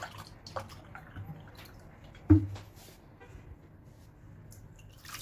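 A little water sloshed and swirled inside a milk container while rinsing it, with quiet drips and squishy liquid sounds and one short knock partway through, all faint and close.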